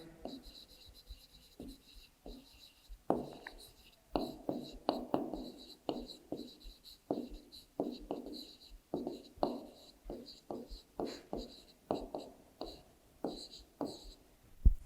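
Numbers are being handwritten on paper during a class 3 maths lesson, the pen giving soft, close scratchy strokes in an irregular rhythm of short bursts, with a voice speaking quietly throughout.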